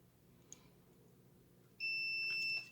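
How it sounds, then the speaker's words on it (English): A digital multimeter gives a steady, loud electronic continuity beep that lasts just under a second, testing a toroid installed in a QCX Mini radio kit, over a quiet background with a faint tap just before. "now we'll test it with the DVM and make sure we've got continuity between the two."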